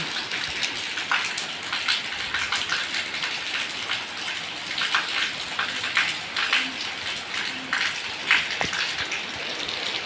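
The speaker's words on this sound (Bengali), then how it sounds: "সকাল সকাল উঠে দেখি অনেক বৃষ্টি হচ্ছে" Heavy morning rain pours steadily around a house, a dense hiss with scattered louder splashes and drips on nearby surfaces.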